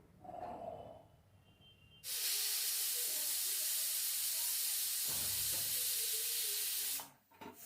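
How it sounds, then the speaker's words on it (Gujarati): A pressure cooker whistle: a loud, steady rush of hissing steam jets out for about five seconds after a quieter start, then cuts off abruptly. "તો કુકરની 4 સીટી થઈ ગઈ છે."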